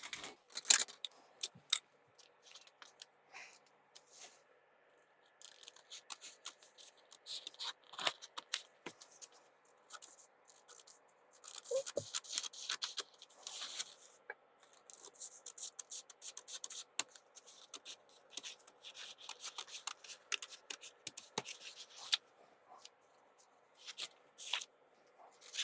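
Tailor's scissors snip through kurta fabric in irregular bursts of crisp cuts and rustling cloth, close and fairly quiet, with brief pauses between strokes.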